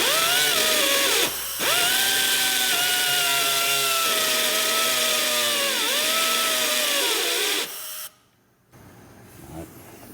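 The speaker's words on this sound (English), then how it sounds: "a pneumatic grinding tool, a right angle grinder basically" A pneumatic right angle grinder runs at high speed with a loud, steady whine. Its pitch dips briefly under load, and it cuts off abruptly near the end, leaving faint air hiss.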